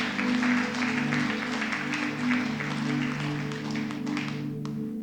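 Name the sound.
congregation clapping hands in church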